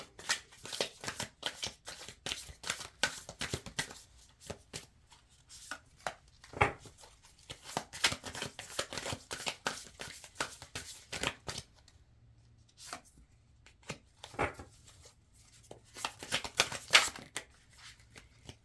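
Tarot cards shuffled by hand up close, a dense run of crisp riffling and snapping bursts in uneven clusters with short pauses, no talking.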